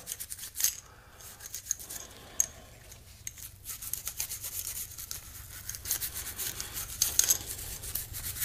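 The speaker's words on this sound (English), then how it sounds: "I do need to get right down in here and scrub" A Beretta A400 shotgun's parts being scrubbed with a brush during cleaning, close up: steady, soft bristly rubbing and scraping strokes repeating throughout, with no talk.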